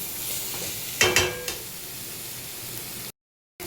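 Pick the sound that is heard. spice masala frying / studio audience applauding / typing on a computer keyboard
spice masala frying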